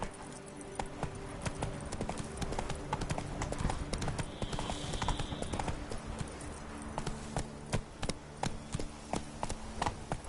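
A horse's hooves clip-clop at a brisk gallop in The Witcher 3: Blood and Wine, a steady run of sharp, close hoof strikes over a busy game soundscape with no talk.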